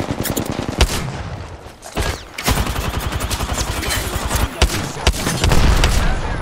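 Rapid bursts of gunfire in an Apex Legends arena match, with sharp repeated shots, heavier booms and a dense fusillade throughout, loud and close, broken by brief pauses and faint voices.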